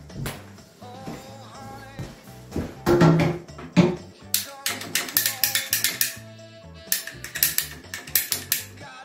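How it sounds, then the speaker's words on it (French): A plumbing pipe being cut in a small bathroom renovation, with repeated mechanical ratcheting clicks from the cutter and a rhythmic run of sharp clacks building toward the end, close and moderately loud. "Je vais couper mon tuyau."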